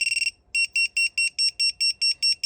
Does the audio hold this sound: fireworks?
no